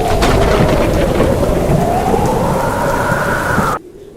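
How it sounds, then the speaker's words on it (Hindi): Night thunderstorm with strong wind and heavy rain, a loud continuous roar of downpour and gusts with rumbling thunder, steady throughout before cutting off abruptly near the end. "रात में तेज आंधी तूफान के साथ बारिश आ जाती है"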